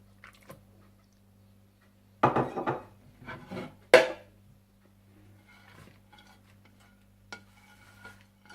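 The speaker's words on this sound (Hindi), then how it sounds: "आप इसमें चिकन, हरी प्याज, हरा धनिया और हरी मिर्चें डालकर अच्छी तरह से मिला लें" Chicken, green onion, coriander and green chilies being mixed into malai pakora batter in a bowl: a few short bursts of scraping and clattering stirs in an otherwise quiet kitchen, with no voices.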